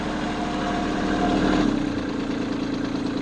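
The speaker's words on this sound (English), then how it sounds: "I should have turned down the volume of the tractor a little bit" A tractor engine idles nearby with a steady, low mechanical drone and slight vibration, with no talking.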